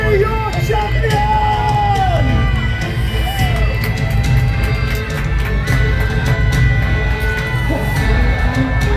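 A large crowd at a live War of the Roses jousting show at Warwick Castle yells, whoops and cheers loudly and continuously for its knight champion, a dense roar of many voices.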